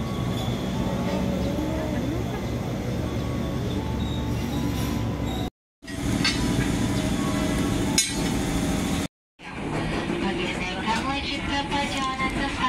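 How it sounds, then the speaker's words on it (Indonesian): A KRL commuter train bound for Bogor arrives at platform 2 of a station: a loud, continuous rumble of wheels with metallic clanks and clinks, heard close on the platform and broken by a couple of brief cuts. "Alhamdulillah, KRL ke arah Bogor sudah datang."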